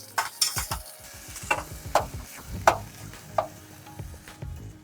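Washed rice and moong dal are stirred in a pan with curry leaves and turmeric, giving a run of close metal scrapes and clinks over a soft, low sizzle.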